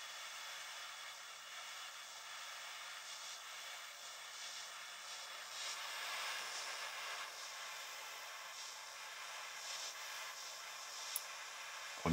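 Steady soft hiss of a torch lighter flame heating a DynaVap dry herb vaporizer, a continuous airy roar held at low level with slight swells, ending in a faint click.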